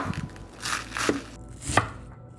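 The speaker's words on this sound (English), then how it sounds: "I'm gonna chop up some cabbage." A knife chopping cabbage on a board, a few distinct, uneven thuds close by, with hissing scrapes between cuts and no voices.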